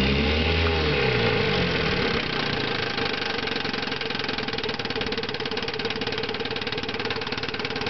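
A 1963 Johnson 5.5 hp outboard motor runs steadily in forward gear, giving a loud, continuous close-up buzzing drone with a fast pulsing beat and a small shift in pitch near the start.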